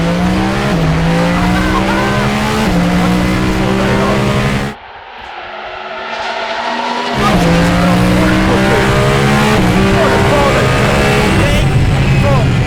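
A race car with an extremely loud exhaust is driven hard on a track, its engine roaring close with rising and falling revs and gear changes, briefly cutting out mid-clip before returning full force.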